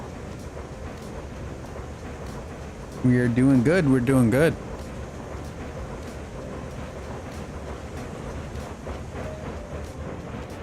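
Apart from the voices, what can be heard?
train running in RAILROADS Online video game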